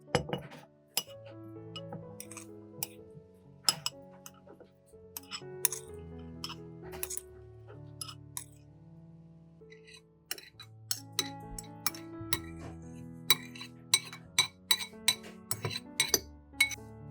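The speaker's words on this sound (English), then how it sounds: "Spoon the garlic mixture into the jar." A spoon clinks against a glass jar while a garlic mixture is spooned in, giving sharp, irregular taps and scrapes heard close up throughout.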